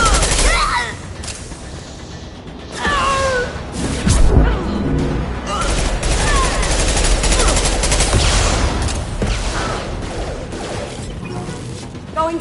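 Rapid bursts of automatic gunfire and sharp shots crackle through a Mass Effect 2 firefight, dense and loud, with radio-style voices calling out over the shooting.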